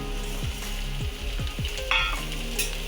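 Pre-fried onion sizzling in hot oil for a prawn tikka biryani masala, a steady close crackle with a few scraping stirs of a spoon against the pan.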